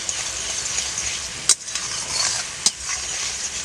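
Sugar syrup for semolina motichur laddu bubbles in a pan, a steady soft hiss of boiling broken by two sharp clinks or taps, with no talking.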